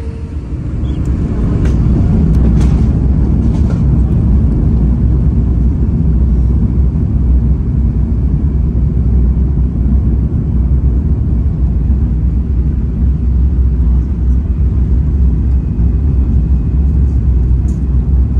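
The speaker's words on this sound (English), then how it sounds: "Set up the full thrust and yes, we are about taking off" An Airbus A350-1000 rolling for takeoff at Dubai International under full thrust, heard from inside the cabin as a loud, steady low roar and rumble throughout.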